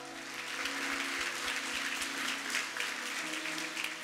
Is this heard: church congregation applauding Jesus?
yes